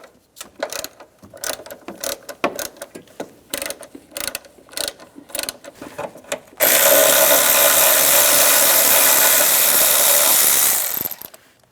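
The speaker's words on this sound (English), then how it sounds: "Using a 13mm socket, take the battery hold down off, loosen up the bolt." Ratchet wrench with a 13mm socket working the battery hold-down bolt loose on a 2010-2016 Cadillac SRX, heard as bursts of close clicking and grinding, then a steady, loud, continuous ratcheting run for about five seconds before stopping.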